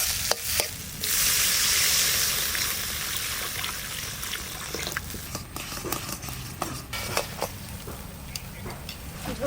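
Water poured into frying spice masala for a fish curry, with a loud rushing sizzle that settles into steady bubbling and stirring scrapes, close up.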